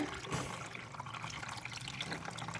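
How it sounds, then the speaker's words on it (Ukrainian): Warm water is poured from a ladle into a cooking pot, giving a soft, close splashing and trickling that runs continuously, with a brief louder splash near the start. "І вілю ось два таких ковшики водички."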